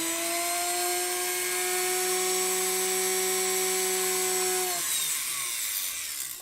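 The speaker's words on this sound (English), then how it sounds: "I think my drill bit is dull." A power drill with a dull bit bores small holes, a steady droning whine that holds for several seconds and then drops off as the motor slows.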